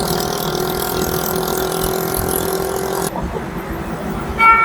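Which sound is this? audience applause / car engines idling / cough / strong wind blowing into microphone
car engines idling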